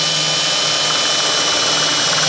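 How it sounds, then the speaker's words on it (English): A power drill bores a hole through the center of an aluminum pop can, giving a loud, steady, unbroken whine with a harsh grinding edge, close up and with no voices. "And then drill a hole"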